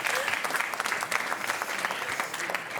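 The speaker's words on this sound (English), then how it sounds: "A round of applause for Sophia" An audience claps steadily, a dense burst of applause filling the room from start to finish.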